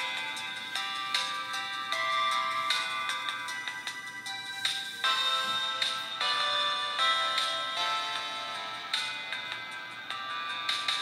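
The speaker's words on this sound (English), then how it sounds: "the speaker of the smartwatch could have been a little bit louder because sometimes I'm not able to hear so much" Small tinny smartwatch speaker on an HK9 Ultra 2 playing a bright, chiming melody with steady ticking rhythm, fairly quiet and thin, with no voices.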